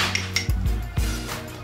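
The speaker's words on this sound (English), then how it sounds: "So now I'm gonna mix my salad up." A salad dressed with olive tapenade is tossed in a bowl, giving clattering knocks and scrapes of utensils against the dish, a few distinct hits within under two seconds, close and fairly loud.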